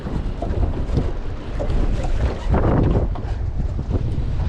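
Strong 30-mile-an-hour wind roars across a fishing boat and buffets the microphone in loud, rumbling gusts, with rough water sloshing underneath and no clear talking.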